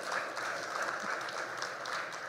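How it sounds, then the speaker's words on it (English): Audience applause at a 2 Million Cups startup event during RGV Startup Week, a steady wash of clapping from a crowd, moderately distant and fairly soft, continuing without a break. "Hey, a round of applause to Armando."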